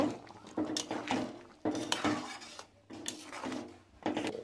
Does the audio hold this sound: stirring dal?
yes